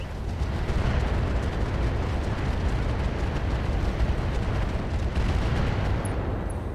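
Heavy battlemech weapons fire in RogueTech BattleTech, a continuous roar of overlapping blasts and explosions held at steady high loudness throughout.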